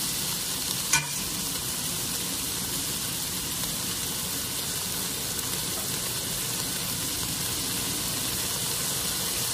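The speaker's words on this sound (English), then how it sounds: "I'm going to be putting in some crushed tomatoes." Crushed tomatoes sizzle in a hot pan on a home stove, a steady close hiss and crackle that runs without pause, with a single sharp clink near the start.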